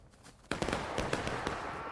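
Incoming musket gunfire in the video game War of Rights arrives as a sudden crackling volley of sharp shots after a quiet start, scattered pops continuing over a low background.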